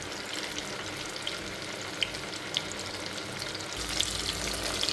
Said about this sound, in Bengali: এটাকে ভালো করে উল্টে পাল্টে আমি এখন ভেজে নেব।